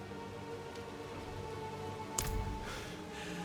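Rain falling in the Diablo IV video game, a steady soft hiss of rainfall under a low ambient drone, with one brief louder splash or thud partway through.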